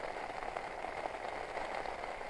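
Heavy rain pours steadily on a solo wild camp on Grindslow Knoll, a dense, even hiss with no pauses, loud and close throughout.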